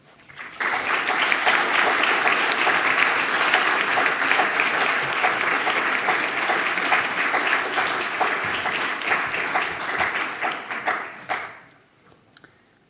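A lecture audience of a Juso university group in Hamburg gives Dr. Peter Tschentscher sustained, dense applause that keeps a steady level for about eleven seconds, then quickly fades to a few stray claps.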